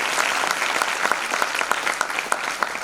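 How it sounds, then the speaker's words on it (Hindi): Audience applause at a national cyber psychology conference workshop, a steady dense patter of many hands clapping close by for a few seconds with no voices over it. "इस ग्रुप फोटोग्राफ के लिए भी तालियां बनती हैं"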